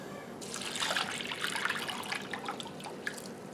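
White vinegar poured into a pot for homemade dill pickle relish, a steady close trickle of liquid lasting about three seconds before it tapers off, quiet and with no talking.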